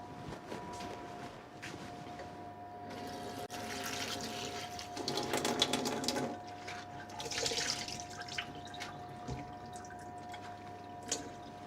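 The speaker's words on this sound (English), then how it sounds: "Okay, so my spinach is ready to be rinsed off." Spinach rinsed under a running kitchen tap, a steady splash of water with brief louder bursts as the leaves are moved under the stream, alongside a constant tonal hum.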